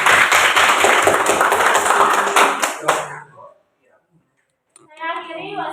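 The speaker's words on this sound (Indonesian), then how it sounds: "Tepuk tangan untuk kelompok." Dense classroom applause for a student group that has just finished presenting, many hands clapping loudly for about three seconds, then fading out into silence before voices resume.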